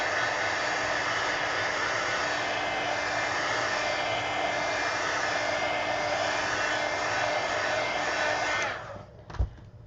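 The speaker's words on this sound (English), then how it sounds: "I'm just going to go ahead and take my heat gun" A heat gun blows steadily while drying coloring ink, a loud continuous whooshing roar with a constant tone, then cuts off near the end, followed by a brief click and thump.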